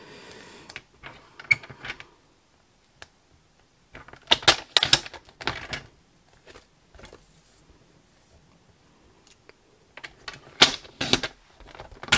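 Grey cardstock for a layered card is trimmed on a paper trimmer, producing scattered sharp clicks and short sliding cuts in bursts with quiet gaps between, close and fairly crisp.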